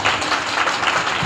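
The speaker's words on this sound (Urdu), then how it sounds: "ابھی کوئی تالی نہ بجائیے" Audience applause fills a girls' college hall in Bhowana, Chiniot, during a speech: dense, steady clapping from many hands, loud and continuous throughout, with no voices on top.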